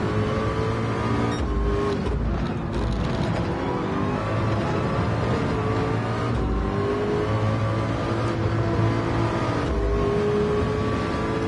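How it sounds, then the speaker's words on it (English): Race car engines roar steadily in a 24 Hours at Le Mans racing game on PSVR2, a continuous loud drone with shifting engine pitch and occasional revving, no voices. "they find the sound of the race cars relaxing"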